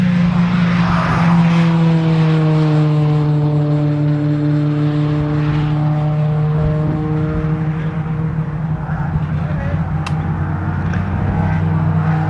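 Race cars at Snetterton, at a BRSCC race weekend, sweep across the finish line during qualifying: loud, near engine drones with long sliding pitch that swell and fade over a sustained roar, with no talk.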